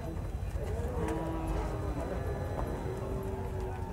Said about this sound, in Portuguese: É um gado já graúdo